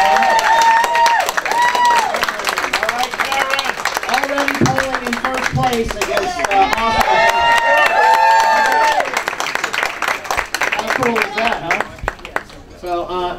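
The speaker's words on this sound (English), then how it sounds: "Clap a little loud for the next one." Audience at a Georgia GOP chairman candidates forum in Fulton County clapping and cheering in a sustained, dense burst that fades near the end, with voices calling out over it.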